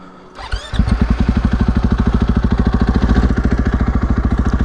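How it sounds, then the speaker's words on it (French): A supermoto motorcycle engine fires up after a brief crank, then settles into a loud, close, evenly pulsing idle as it warms up outdoors. "C'est difficile de trouver un meilleur endroit pour faire chauffer tranquillement ta moto"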